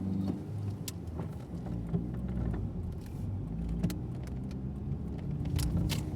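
A Vauxhall Vectra B pulls a U-turn, its engine idling and rumbling steadily close by, with small clicks and rattles from the cabin scattered across the turn.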